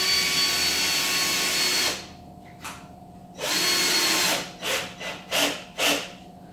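A power drill whines steadily for a couple of seconds, pauses, then runs again in a longer burst followed by several short pulses as screws bite into wood.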